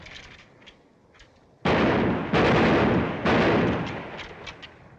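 Rifle gunfire on a military firing line in a 1941 film: three loud, close volleys crash in with sustained roaring bursts, each followed by lingering rumble, with faint background noise before and between them.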